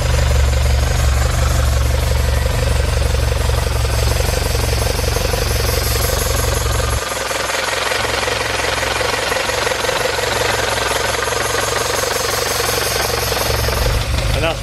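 A Honda S2000 with a 2.4L engine and individual throttle bodies runs with a harsh, rough mechanical clatter and a heavy low drone that drops off midway, with a voice speaking over it.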